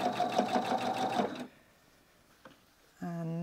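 A domestic sewing machine stitches bias binding onto fabric, a steady rapid whirring run that stops abruptly, followed by a quiet pause, a small click and the motor starting up again.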